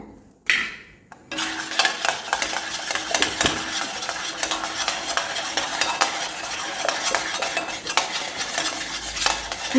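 A spoon stirs a teaspoon of ghee into bubbling jaggery syrup for jackfruit seed chikki, giving close scraping and clinking against the pan over a steady frothy sizzle, with no talk.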